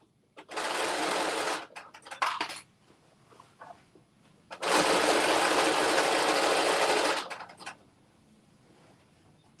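Two bursts of a sewing machine stitching a seam on a Butterick 6989 garment, a short run followed by a longer steady one, with soft handling clicks and rustles between them.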